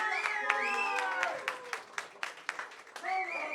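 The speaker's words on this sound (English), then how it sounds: "give him a round of applause" An audience at a live show claps and cheers in a short burst of applause. Voices carry over the scattered claps, which thin out toward the end.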